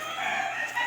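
Backyard chickens kept alongside pigs, ducks and fighting cocks, giving a brief, steady burst of clucking and crowing close by with no talk over it.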